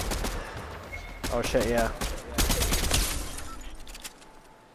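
Fortnite Chapter 3 gunfire: several sharp bursts of shots from another direction crack out close and loud, mixed with excited player voices speaking over the game sounds.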